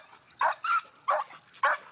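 A frustrated pit bull barks close by, giving four sharp, throaty barks in an uneven rhythm, the first two close together.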